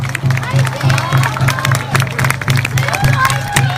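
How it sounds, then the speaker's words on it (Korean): A large crowd at an election campaign rally claps and cheers continuously, loud and dense, with a low steady hum and babble running underneath. "여러분 다같이 함께 큰 박수로 함께 주시기 바랍니다"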